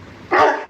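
A single short dog bark from Minecraft Pocket Edition, one sharp bark near the end, close and clear against quiet background.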